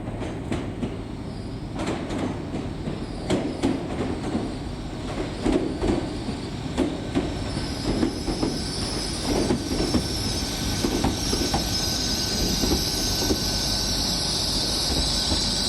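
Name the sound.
Great Western Railway class 800 train arriving into station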